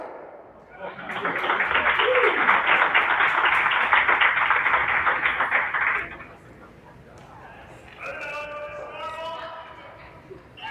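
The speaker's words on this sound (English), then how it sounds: "Crowd reacted to a shot going on in the men's semifinal on sheet C." A crowd at a men's curling semifinal bursts into sustained applause and cheering for about five seconds, then fades into murmur as an announcer talks.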